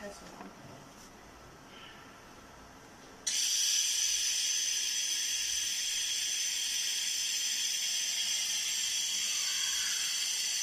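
A 300 W MOPA pulse laser cleaning machine stripping rust and coating from metal, starting after a few seconds of quiet room tone as a loud, steady high-pitched hiss that holds without a break.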